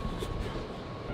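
A Dubai metro train rolls along, a steady loud rumble and rush of wheels and motors heard from inside the carriage.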